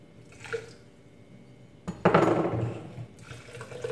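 Water runs into a container to brew a liter of tea, a brief trickle and then a louder gushing pour for about a second that tails off.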